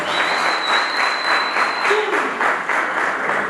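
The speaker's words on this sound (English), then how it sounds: "A big round of applause." Sustained audience applause fills a debate hall, dense steady clapping with no pauses, loud and close, a brief whistle-like tone riding above it.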